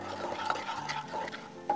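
A curry spice mixture with milk is stir-fried for a meatless mushroom curry, soft scraping stirs over a faint, low sizzle, quiet and close.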